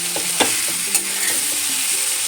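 Steady sizzling of vegetables, including capsicum, frying in a little oil, with a few soft scraping stirs of a spatula against the pan.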